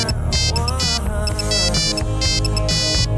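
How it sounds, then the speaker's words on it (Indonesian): A phone ringtone plays loudly and continuously, a bright electronic melody with repeating beeping phrases, heard close and alone. "Alah, bos telepon lagi."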